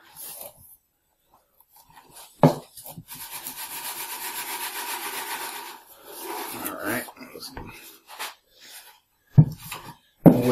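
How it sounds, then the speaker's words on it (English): Loose foundry sand scooped and shaken over a metal casting pattern, giving a sustained gritty rustling hiss broken by a few sharper knocks and scrapes, close up and moderately loud. "scoop some sand in here and shake it up here"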